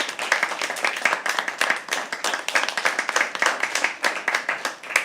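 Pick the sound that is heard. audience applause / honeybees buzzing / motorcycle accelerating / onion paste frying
audience applause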